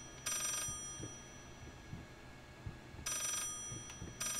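Phone ringing in the horror game Layers of Fear, heard as short bright bursts: one near the start and two more toward the end, over a low, quiet ambient background.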